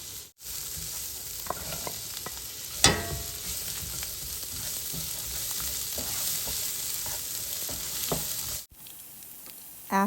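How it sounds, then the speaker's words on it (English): Garlic, ginger, kaffir lime leaves and onions frying together for a chicken wing curry, with a constant close sizzle, occasional spatula scrapes and one sharp clank near the three-second mark, and brief dropouts at both ends. "You're going to fry these three ingredients together to release the aroma and the flavor."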